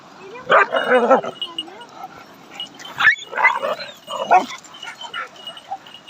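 A dog barks and yips in short bursts, several loud close barks with a whining tone, separated by brief pauses, recorded indoors at close range.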